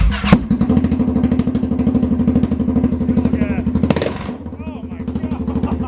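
A loud, raspy straight-pipe exhaust with no muffler on a 2019 Polaris Sportsman 570 ATV idles and revs with sharp throttle blips, a few faint chirpy squeaks and voices mixed in near the end.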